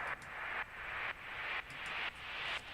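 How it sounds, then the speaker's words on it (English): Sidechained hissing white noise rises in repeated swelling pulses, each building up then cutting off abruptly, about five in a steady pumping rhythm. "I've just chosen to use two different white noise effects on this one"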